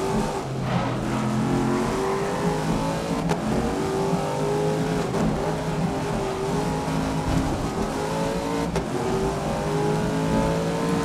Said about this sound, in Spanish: ¿Cómo se va el coche así solo, tío? Hasta estaba acelerando a toquecitos.